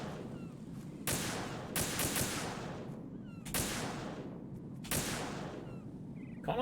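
Gunfire in the Metal Gear Solid 2 video game, fired at a flag: four or five sharp, loud shots spaced irregularly over a low background rumble, with no talking.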